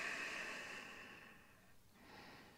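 Slow yoga breathing during pranayama practice: a long, soft, close exhale that fades out, then the start of the next breath, very quiet, with no talk.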